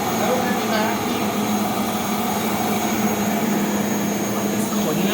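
A vacuum cleaner, a Panasonic or Rainbow D4C, runs steadily with a constant loud whirring drone and high whine, close and unbroken throughout.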